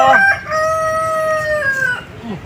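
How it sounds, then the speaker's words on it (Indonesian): A rooster crows loudly and close by, one long drawn-out call that rises and then trails off. "Ayam toh, kukuruyuk toh."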